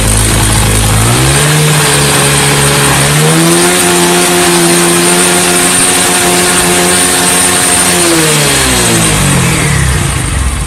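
A Yamaha Mio J scooter engine held at full throttle, a loud, close, sustained high whine that climbs, holds steady, then drops back toward idle near the end.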